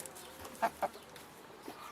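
Laying hens give two short, sharp clucks close together early on, with fainter clucking later over a quiet farmyard background.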